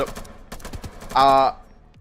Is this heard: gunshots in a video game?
yes